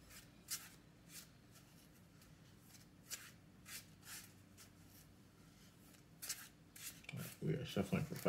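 Marvel Legendary playing cards are shuffled repeatedly, in a series of brief crisp riffling bursts spaced out over several seconds. A voice joins near the end.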